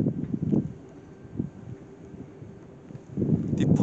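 Wind turbine at the Krähenberg wind farm turning and making irregular clunking, knocking sounds, several soft thuds spread over the clip, heard outdoors under wind noise on the microphone.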